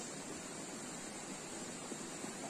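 A river flowing steadily, bathers in the water nearby, comes through as a continuous broadband rush, close and even in level, without voices.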